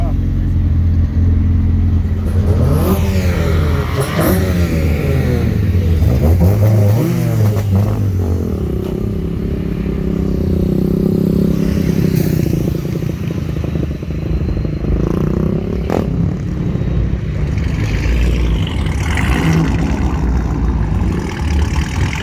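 A Dodge Challenger muscle car engine rumbles and revs nearby, rising and falling through several throttle blips over a loud, continuous idle.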